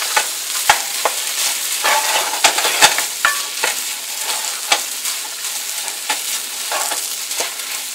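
A spoon stirs spiced potato filling for dosa in a hot pan, with a soft continuous sizzle and irregular scraping clicks of the utensil against the pan, close and fairly loud.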